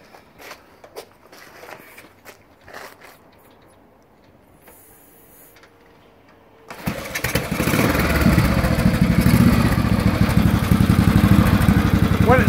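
A cold 1990 Royal Enfield Bullet 350cc single-cylinder motorcycle fires on choke after some shuffling and faint footsteps, then runs with a loud, steady thumping idle close by.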